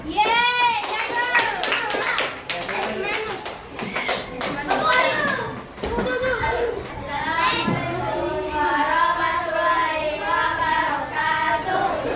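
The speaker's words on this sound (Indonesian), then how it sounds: "Berikan aplaus untuk temannya" A class of schoolchildren claps for a classmate, with scattered hand claps mixed into lively children's voices, cheering and chatter throughout, close and fairly loud.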